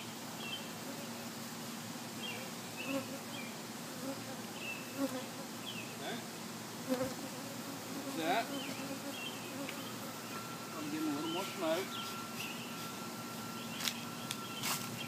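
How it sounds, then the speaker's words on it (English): Honey bees swarm around a phone while a hive is being set up, giving a soft, continuous buzzing with individual insects droning closer and louder now and then. "This bees are attracted to this phone for some reason."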